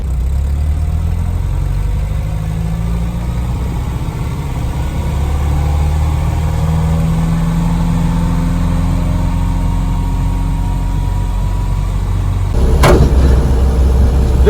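A 1949 Austin A40 Traveller on the road, its engine droning loudly with shifting pitch as it accelerates, heavy wind rushing through the cabin, and a sharp knock near the end.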